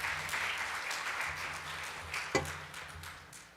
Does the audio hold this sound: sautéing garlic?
no